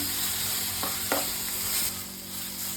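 Ginger, garlic, green chili, cinnamon, cloves and cardamom sizzle steadily in a pan as they lightly roast, with a few clear stirring scrapes and taps over the constant frying hiss.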